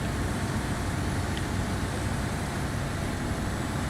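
German military truck engine in the Snowrunner video game, a steady, dense, low droning roar held at constant high load throughout, with no speech.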